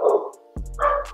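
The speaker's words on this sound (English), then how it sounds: "oh my god, those dogs are going off." Dogs barking, a couple of sharp close barks with a short silent gap between them, loud and alone without talk.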